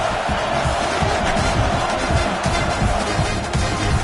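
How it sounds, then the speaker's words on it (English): A football stadium crowd roars steadily before a field goal attempt in an Ohio State versus South Carolina game, a loud, dense wall of noise holding without a break. "This crowd trying to do its part to get inside the kicker's head."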